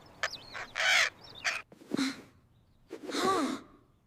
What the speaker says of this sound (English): Squawk!